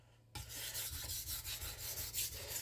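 A knife is sharpened at a shallow angle on a whetstone in steady, rhythmic rasping strokes. The sound starts suddenly after a brief silence, is close and fairly soft, and nobody talks.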